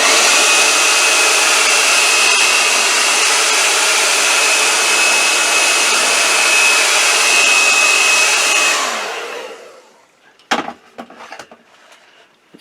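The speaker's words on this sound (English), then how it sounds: "I'm going to give this a blast with a hairdryer" Hairdryer blasting air to dry a painting, a loud steady whoosh close by for about nine seconds before switching off, followed by a few faint knocks and handling sounds.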